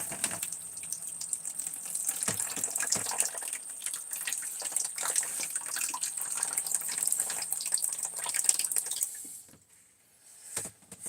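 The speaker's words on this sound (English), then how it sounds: "Well, I got a pump on my 5-gallon water jug now." Water pumped from a 5-gallon water jug, a continuous splashing, hissing pour for about nine seconds that stops abruptly, followed by a brief quiet with a couple of small drips or clicks.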